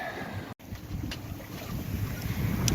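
Steady wind noise and rushing water around a sailboat on a starboard tack, making a continuous broadband roar that builds slightly toward the end, with one brief dropout.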